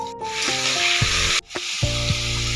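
Ginger-garlic paste frying after onions for taro dal sizzles loudly as a little water goes in, with a steady hiss, a sudden brief drop and burst, and scraping stirs, with no speech.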